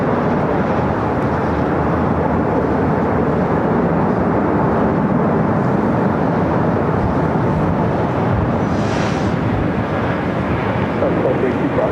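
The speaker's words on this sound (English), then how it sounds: "Up next, United Dreamliner." A United Boeing Dreamliner at LAX, heard as a loud, steady, broadband jet roar that holds unbroken throughout, with wind buffeting the microphone.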